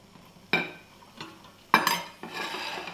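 Vegetables going into hot oil in a saucepan, with two sharp utensil clanks against the pan followed by a soft sizzle and stirring, close and with no talk.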